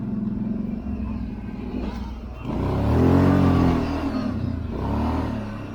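The engine of a 2024 Kawasaki Brute Force 750 ATV rumbles off-road, then swells as it accelerates and revs to a loud peak before easing back, close and steady with no talk.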